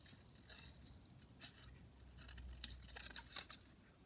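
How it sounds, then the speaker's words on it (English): Scissors make small, careful snips while fussy cutting a paper rosebud for a collage pocket, a quiet, close series of light crisp cuts and rustles with one sharper snip, with no talking. "I might be able to kind of just fussy cut one of these little rosebuds"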